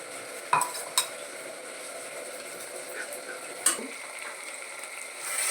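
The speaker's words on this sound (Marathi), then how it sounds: "ग्रीन मसाला पण चांगल्यापैकी फ्राय करून घ्यायचा" Green masala paste of ground ginger, garlic, coriander and whole spices sizzles softly in a pan for chicken biryani, with a few sharp clinks of a spoon against the metal as it is stirred, and nobody speaks.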